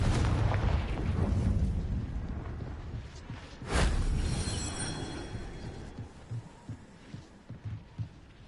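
A Confringo fire spell in Hogwarts Legacy explodes with a deep, heavy blast, then a second sharp boom around the midpoint, followed by rumbling and scattered low thumps that fade out.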